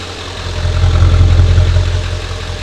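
Diesel truck fitted with a Magnaflow exhaust idling, a deep, throaty low rumble with a steady pulsing beat, close and continuous, swelling slightly in the middle.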